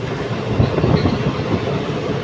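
Punalur Madurai Express running near Parassala at night: a steady, loud rolling rumble of train wheels and carriages with a faint clickety-clack throughout, no voices.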